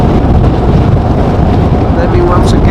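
Strong storm wind roars steadily across a microphone at Amsterdam Schiphol airport, a dense, continuous low rumble with buffeting gusts filling the whole stretch.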